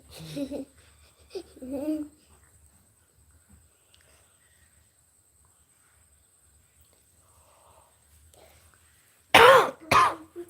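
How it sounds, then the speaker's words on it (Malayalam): Two sharp, loud coughs near the end, close by, after a few brief vocal sounds and a long stretch of near silence. "ചുമ"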